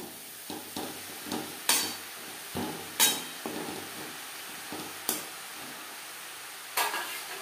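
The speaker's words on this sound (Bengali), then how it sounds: "পেঁপের সাথে লবণ বেশ ভালো করে মিক্স করে দেবো।" Papaya cooked with salt in a pan on a gas stove is stirred with a utensil, giving repeated scraping strokes and clinks at an irregular pace, with a soft sizzle underneath and no talking.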